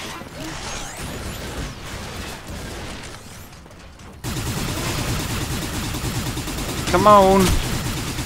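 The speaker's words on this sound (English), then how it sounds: "I'm actually shooting him, right?" Rapid bursts of gunfire from the shooter video game Hard Reset, rattling in dense clusters with a louder stretch in the second half, heard alongside a voice.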